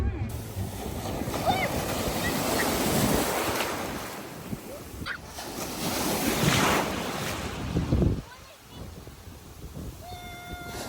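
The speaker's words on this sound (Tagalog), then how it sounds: "Kasi ang ganda ng wave. Sakto lang yung alon nila." Ocean waves on a beach at El Nido, a loud rolling surf with heavy wind buffeting the microphone, swelling and easing in long surges while people talk nearby.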